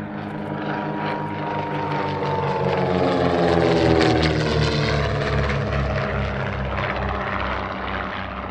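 A vintage de Havilland Comet propeller racing aircraft from the 1934 England-to-Australia air race flies past at the Shuttleworth airshow, its droning engines rising and then falling in pitch as it passes overhead, loud and sustained.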